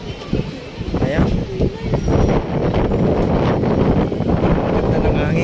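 Strong gusts buffet the microphone outdoors on a city street, a loud, rough rumble that persists throughout while a person talks over it.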